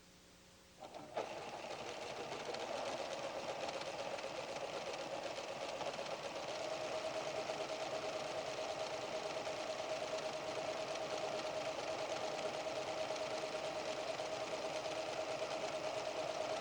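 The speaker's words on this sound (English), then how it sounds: "Engage the needle down key and sew until you reach a corner." PFAFF creative 7550 sewing machine stitching fabric toward a corner with the needle down, starting after a brief pause and then running in a fast, steady, even whir close up.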